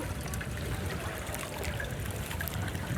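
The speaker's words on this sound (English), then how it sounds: "Got a little water stream going through it." A small stream of water trickles steadily through a green copper fountain outdoors in Győr, Hungary, a close, continuous splashing with street noise behind it and no talk.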